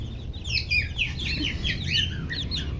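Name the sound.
chicken or rooster clucking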